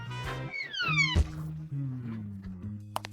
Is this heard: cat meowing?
yes